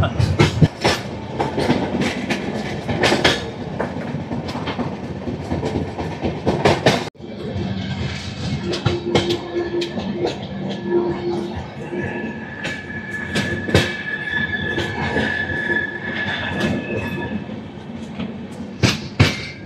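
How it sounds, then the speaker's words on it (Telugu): A passenger train on the Visakhapatnam–Araku line rumbles steadily along the tracks, wheels clattering in a continuous rhythm with occasional high squeals, loud and close throughout. "అరకు అందం చూడాలంటే ఈ ట్రైన్ అయితే ఎక్కాల్సిందే కంపల్సరీగా."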